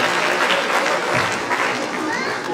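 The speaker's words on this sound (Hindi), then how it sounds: "एक बार खुलकर तालियां दीजिए" An audience at a Hindi poetry recital (kavi sammelan) breaks into sustained, loud applause, a dense wash of clapping filling the hall with voices mixed in.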